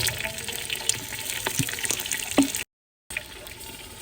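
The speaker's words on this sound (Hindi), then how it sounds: "थोड़ा सा पानी ऐड कर देते हैं।" A small splash of water poured into a pan of cooking keema masala with tomato, garlic, ginger and green chili makes a close, continuous watery hiss and gurgle, broken by a brief cut of silence.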